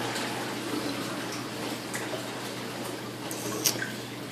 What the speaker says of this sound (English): Currently the sump is a little loud since there's no filter sock